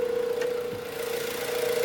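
A 2016 Chrysler 200 S sedan's 2.4-liter inline four-cylinder engine idling smoothly and quietly up close, a steady hum with a faint even tick and no other sounds.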